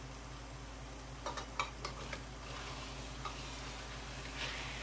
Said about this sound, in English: we'll get these browned up real nice here